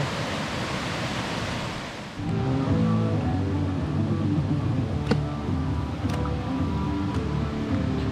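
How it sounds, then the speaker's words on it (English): Footsteps wade and splash through a creek bed on a backpacking trail to Bone Valley, a steady close rush of flowing water with scattered sharp splashes as feet move through it. "walking in a creek bed, yeah"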